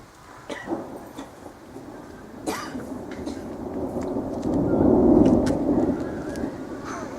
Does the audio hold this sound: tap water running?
no